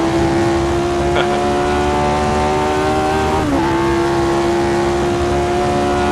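An F1 racing car in a video game roars around Monza: a loud, sustained engine drone that holds steady and shifts pitch briefly near the middle, with a voice faintly mixed in beneath it.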